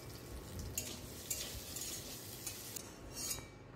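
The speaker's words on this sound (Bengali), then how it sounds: "তো চলুন আলুটা ভেজে নেওয়া যাক।" Potato pieces frying in hot oil in a pan, a soft continuous sizzle with light stirring and occasional utensil clinks against the pan, faint and close, with no talking.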